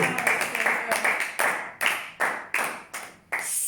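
A church congregation at a Sunday service claps together in a steady, rhythmic beat, sharp and close, with voices talking underneath.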